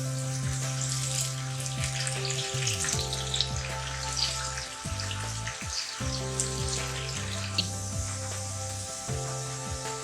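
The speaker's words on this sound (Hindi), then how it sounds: "प्याज को हमने गोल्डन ब्राउन करना है" Onions frying in hot oil in a pan as the first step of a fish karahi, a steady close sizzle that runs the whole time, with busy harmonic music playing over it and no talking.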